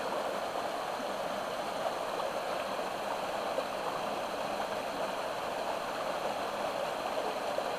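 Steady rushing of creek water, a continuous broadband wash with gentle gurgling texture, close by and unchanging throughout with no voices.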